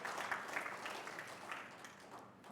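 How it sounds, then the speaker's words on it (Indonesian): Congregation at an Indonesian Sunday church service claps in a soft, steady patter of scattered hands, fairly distant and moderate, ending with a sharper burst at the close. "Berikan lagi tepuk tangan."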